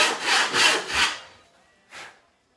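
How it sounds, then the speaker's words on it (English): A hand saw cuts a kerf in wood in three strong back-and-forth strokes, then a single lighter stroke after a short pause; the rasping is close and clear, and nobody talks. "So I want to settle in and make the saw cut."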